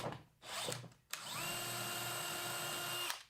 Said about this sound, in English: I'll go ahead and remove part of the air intake so I can drill a hole in it